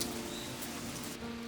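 Spring rain falling at Baengnyeonsa temple in Gangjin, heard from under the eaves of the temple gate: a soft, steady hiss of rainfall with faint scattered drips throughout.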